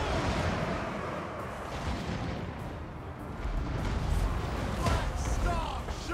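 Artillery fire in the fantasy strategy game Total War: Warhammer 2, a dense continuous barrage of booms and blasts rolling loudly for several seconds, with someone talking over the battle.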